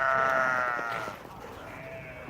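Sheep bleat at feeding time on a farm, several wavering, drawn-out calls close by and fairly loud, overlapping one another before trailing off, with no talking.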